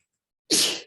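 After a moment of silence, a single sharp, loud sneeze bursts out close by and trails off quickly.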